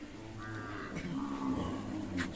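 Cattle moo at a livestock farm where young calves are kept, with a couple of drawn-out, low lowing calls close by, one overlapping another, against a quiet barn background.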